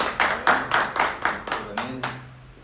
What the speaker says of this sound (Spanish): Muchas gracias, un aplauso.